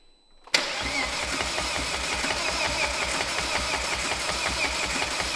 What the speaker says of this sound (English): We're going to see if the car will crank.